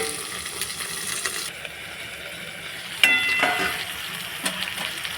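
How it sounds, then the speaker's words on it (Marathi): Tomatoes frying with browned garlic in a covered pan for egg masala give a steady, soft sizzle, with a few light clinks of metal partway through. "आता यामध्ये आपण टोमॅटो टाकून टोमॅटो मऊ होईपर्यंत भाजून घेणार आहोत।"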